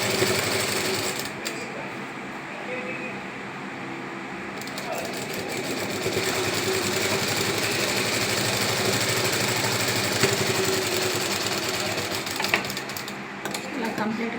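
A sewing machine stitching a middy belt, running in one long continuous rattling drone, close and steady with slight surges in speed toward the end.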